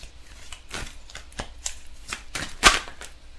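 Tarot cards being shuffled and drawn by hand, a run of quick papery riffles and slaps ending in a sharper snap, close and moderately loud with no talking.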